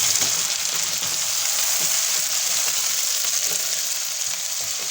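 Garlic and ginger fry in a pan with golden onions for a Pakistani chicken tikka karahi, giving a constant loud sizzle with faint stirring scrapes and no talk.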